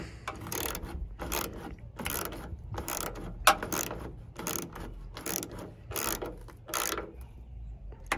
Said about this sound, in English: so go ahead and tighten both of those back up.